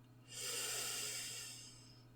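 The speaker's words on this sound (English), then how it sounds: "Let's take some nice long deep breaths in through your nose and out through your mouth." A single slow, deep breath is drawn in through the nose, soft and close, swelling over about a second and then fading, with a low steady hum beneath.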